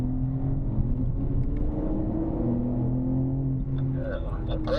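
A BMW M car engine rumbles steadily on a race track as the driver eases onto the throttle, a low droning tone rising gently in pitch with no voices.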